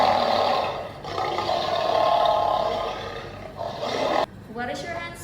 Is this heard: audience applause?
no